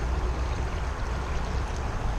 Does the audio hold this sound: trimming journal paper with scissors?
no